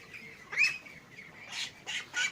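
Young ducks give short, hoarse, raspy quacks, several scattered calls at moderate distance over a faint background hiss.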